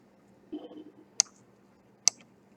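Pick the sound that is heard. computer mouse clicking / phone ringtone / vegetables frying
computer mouse clicking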